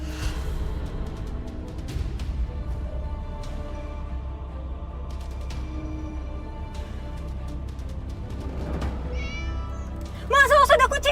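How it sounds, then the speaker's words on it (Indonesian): Near the end a cat meows sharply a couple of times, rising out of a low rumbling background with faint scattered sounds before it. "awas ada kucing"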